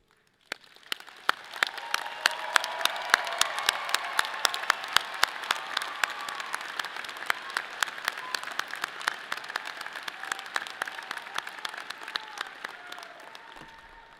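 Audience applause for graduates with distinction at a Colorado State University College of Health and Human Sciences commencement rises quickly from silence into sustained clapping across a large hall, holding steady and then thinning slightly toward the end.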